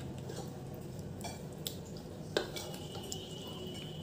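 Chicken lollipops being mixed with red food colour, soft wet squelching and stirring with occasional light clinks of a utensil against a bowl, close and quiet.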